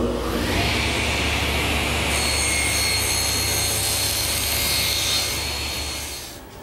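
A table saw trims about a sixteenth of an inch off wooden pieces while building storage furniture such as a bureau and bookcase, giving a loud, steady whining cut that holds for several seconds and then winds down.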